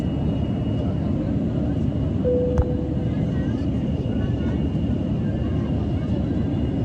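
Cabin drone of an airliner cruising above the clouds, a steady low rumble and hiss filling the whole stretch at an even level, with a brief chime-like tone and a soft click.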